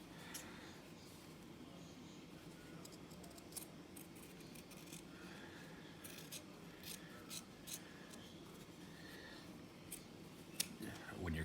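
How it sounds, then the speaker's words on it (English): Scissors snip and rub as excess thread is trimmed from the edges of a stitched piece, quiet repeated cuts and rustling close by at low level. "now we're going to trim off all this excess on the edges and clean up all of our strings"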